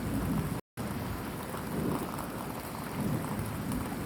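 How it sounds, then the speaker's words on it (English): Thunderstorm with steady heavy rain pattering on surfaces and low rumbling thunder beneath, a continuous dense wash with one short dropout near the start. "this is a thunderstorm"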